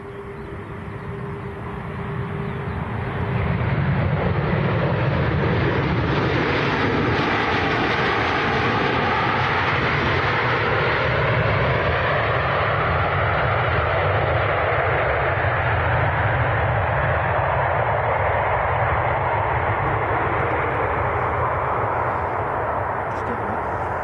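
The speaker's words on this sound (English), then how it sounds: "next to land, this is Jet 2 from Athens, 737-800" A Jet2 Boeing 737-800 arriving from Athens lands on a dry runway at Manchester Airport, a loud sustained jet roar that swells and holds near the listener, with reverse-thrust rumble and a voice talking briefly.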